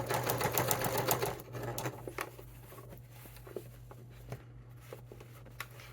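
A sewing machine slowly sews a thick velvet stocking seam with a lengthened stitch, a low steady motor hum with a rapid patter that is strongest at first and then eases into a quieter, slower run with occasional taps.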